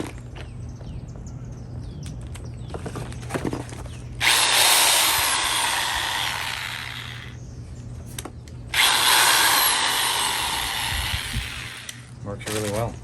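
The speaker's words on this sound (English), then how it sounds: "Our Black & Decker professional drill. Is it a hammer drill? It is a hammer drill." Black & Decker professional hammer drill from a hoarder-house tool haul, run in two loud whirring bursts of several seconds each, separated by a pause, with faint handling noise between them.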